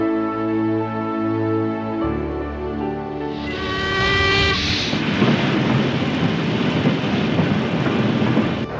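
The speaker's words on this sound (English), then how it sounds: "Some were transported by train." A train moving along a railway in Malaya gives a few seconds of steady, sustained tones, then a loud, continuous rumbling roar of rolling stock that fills the rest of the clip.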